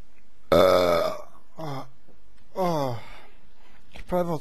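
A person lets out loud belches after eating lasagne, a long drawn-out burp followed by several shorter ones, close and voiced.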